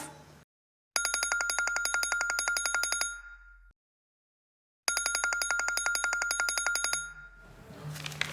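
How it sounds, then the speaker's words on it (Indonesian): A mobile phone rings with an incoming call: two loud, even bursts of rapid electronic ringing, each about two seconds long, separated by a short silence and standing alone without talk. "Pacar kamu telepon."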